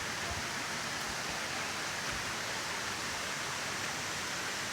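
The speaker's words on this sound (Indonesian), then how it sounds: "ini air terjun Kleangan" Kleyangan waterfall in Parang village, Kediri, pours in a steady, even broadband rush of falling water, continuous and fairly close, with no voices over it.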